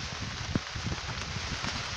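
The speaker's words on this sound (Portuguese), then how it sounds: "E a gente tá aqui escondido esperando a chuva passar." Rain falling steadily near a cattle salt trough during a fishing trip, a soft continuous hiss with scattered patters of drops, faint and close, with no talk.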